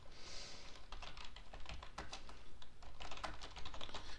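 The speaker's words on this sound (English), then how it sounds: "you just type in the reminder message as you want to have it" Steady, rapid typing on a computer keyboard while entering a reminder message into a cadet training plan template, with dense clusters of close, crisp key clicks running continuously and no voices.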